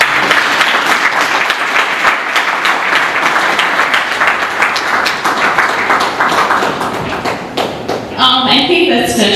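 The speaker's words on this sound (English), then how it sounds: "Let's give her a loud round of applause" Loud, sustained applause from a lecture hall audience after a talk on neocolonialism, a thick continuous roar of many hands that runs nearly unbroken before a voice speaks over the last moments.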